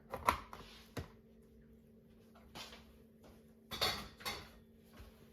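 A small tray dropped into a kitchen sink, giving a few light metallic clatters and clanks spaced apart, close but quiet, with near silence between the hits.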